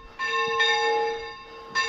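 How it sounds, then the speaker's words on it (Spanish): Church bells ring in the hilltop village of Alquézar, Spain. Three clear, resonant strikes come in an uneven rhythm, each tone ringing on and fading between hits at a moderate distance. "Ya están tocando las campanas"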